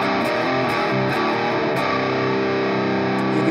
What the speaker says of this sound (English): I'm going to switch on to some distortion here to get a good heavy sound.